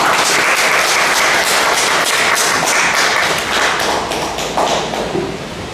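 An audience applauding to welcome a speaker at a lecture event: dense, sustained clapping from many hands, loud and close, tapering slightly toward the end.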